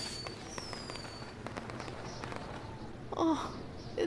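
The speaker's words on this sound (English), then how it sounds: "we'll get to see some cool fireworks" Fireworks going off in the WWE 2K20 video game, a scatter of crackling pops and whistling bursts with a couple of louder booms near the end, under faint background chatter.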